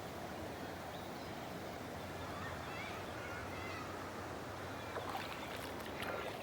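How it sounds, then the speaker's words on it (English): Water runs steadily into a creek that borders a farm, a continuous broad rushing wash at close range, with a few rustling footstep-like sounds near the end. "This is the water flowing to the creek that's actually bordering my place from my neighbor's farm."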